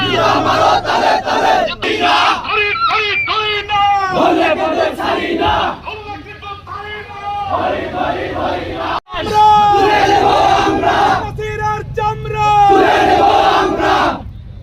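Loud crowd of student marchers chants slogans in unison at a protest procession, rhythmic shouted calls and responses continuing throughout with a brief break midway.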